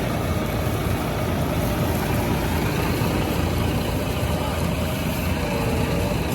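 A tractor hauling a trolley loaded to the top with harvested wheat gives off a continuous, heavy, low engine drone, steady and close, with no voices.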